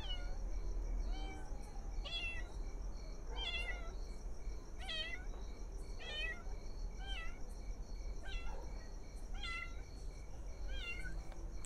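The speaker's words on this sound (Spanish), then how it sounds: "¿Donde los gatos se ponen más nerviosos?" Cats meowing in a cemetery: repeated plaintive meows, several overlapping calls every second or so, fairly clear over a steady high insect-like drone and low background rumble, no talk.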